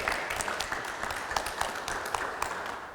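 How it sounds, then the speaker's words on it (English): An audience claps at a press conference, a steady, moderately distant patter of many hands lasting the full few seconds without speech. "Now you can clap for that"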